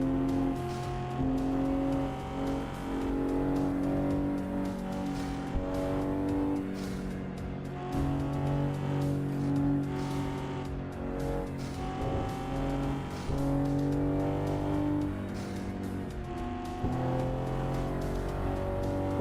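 A Corvette race car engine in a sim racing video game, droning and revving steadily with shifting pitch through gear changes, loud and continuous throughout.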